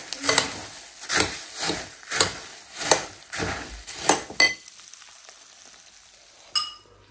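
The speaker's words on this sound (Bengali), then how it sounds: "তো এখন দুই ভাইকে এই মাংসের ঝোল দিয়ে মুড়ি মাখাই দিব, সাথে পেঁয়াজ আর মরিচ দিয়েছি।" Puffed rice being mixed by hand with meat broth, onion and chili, heard as a series of about eight rhythmic crunchy rustling strokes, close and fairly loud, then quiet with one faint knock.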